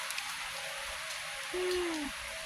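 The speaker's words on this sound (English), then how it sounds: "Oh my God, I'm getting rained on." Rain falling outdoors, a soft steady hiss of drops throughout with one brief tonal whistle-like sound partway through.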